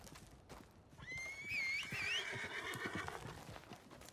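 A horse in the Red Dead Redemption 2 video game lets out a clear, wavering whinny that rises and falls over about a second, with faint clip-clop and game ambience around it and no talk.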